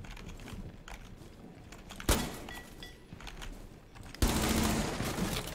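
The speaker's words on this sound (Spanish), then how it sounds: "he pegado tiros a esa ventana" Bursts of rapid gunfire in the video game Rainbow Six Siege, with sharp loud volleys standing out over a busy background of clatter.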